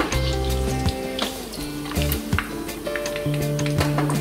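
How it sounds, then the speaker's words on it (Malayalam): Fish cutlets frying in hot oil give a steady, close sizzle with crackling bursts, while a low tonal hum of steady tones runs underneath throughout. "ഇപ്പൊ നമ്മുടെ കട്ട്ലറ്റ് ഫ്രൈ ആയി."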